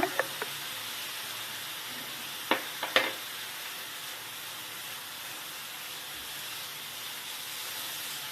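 Raisins and cashews drop into sizzling carrot halwa, giving a steady close frying hiss with a few sharp clicks and taps from the pan, with no talking.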